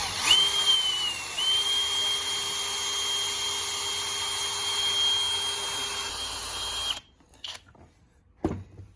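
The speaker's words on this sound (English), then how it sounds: "I'm going to try to drill a hole here and here." A power drill whines steadily at a high pitch for about seven seconds while struggling to bore into steel, then cuts out, leaving a few short clanks and near-silence.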